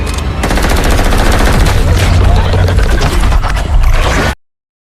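Gunfire in a science-fiction film fight with an alien creature: loud, dense automatic bursts rattle continuously, then cut off abruptly into silence.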